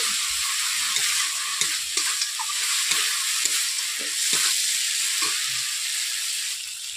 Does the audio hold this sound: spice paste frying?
yes